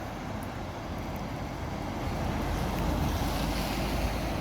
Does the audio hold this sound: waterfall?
yes